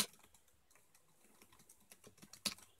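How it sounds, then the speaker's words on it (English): Keys clack on a Perixx Periboard 311 Plus keyboard in a quick irregular patter of soft taps, close and fairly quiet, with one sharper louder keystroke near the end and no speech. "I really enjoy typing on this keyboard."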